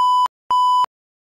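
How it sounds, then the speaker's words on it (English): A GSM SMS temperature alarm device gives short, clean electronic beeps, evenly spaced and heard alone in a quiet setting. "Wait for the LED turn green, and you hear 3 short beeps."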